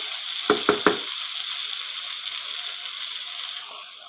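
Water poured into hot oil in a pan while cooking Lucknow-style nihari. A few sharp splashes are followed by a steady, even sizzle that hisses on and slowly fades.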